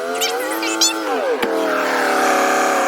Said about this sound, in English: Increase RPM to 2500 for the charging test.